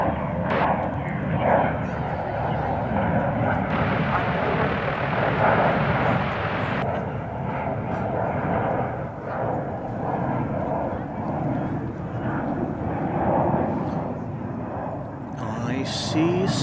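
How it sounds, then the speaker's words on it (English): An American Airlines Airbus A321neo arriving at DFW produces a loud, continuous jet engine roar, near and steady. A voice talks over it at points. "our next arrival is Flight 3184 from Las Vegas, an Airbus A321neo"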